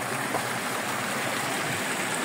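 Water rushes and burbles continuously in a steady broadband hiss, like a fast mountain stream flowing close by, with no voices.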